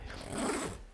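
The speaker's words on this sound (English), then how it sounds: "Snag-proof zipper" A single smooth zip of the snag-proof zipper on an ultralight sleeping bag, a soft rasping pull lasting most of a second before a small click at the end.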